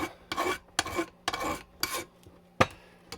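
A heavy-duty body file rasps across a motorcycle exhaust muffler support on a Yamaha Roadstar Silverado XV1600, giving five or six close, scraping strokes in a steady rhythm with short pauses between them.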